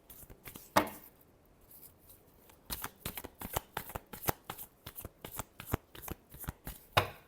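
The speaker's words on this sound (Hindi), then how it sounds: "last shuffle" Tarot cards are shuffled by hand in a reading, producing crisp rapid riffling slaps and flicks in close, uneven bursts and steady rhythmic runs, with no speech.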